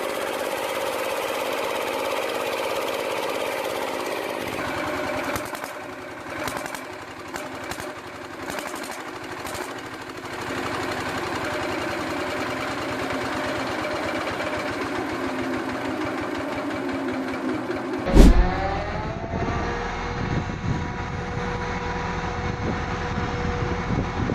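Vintage DUVANT 6NN four-stroke diesel engine from around 1938, once used at a pumping station, running with a steady knocking chug and mechanical clatter, followed by a sharp bang and a shift to a deeper, louder running tone.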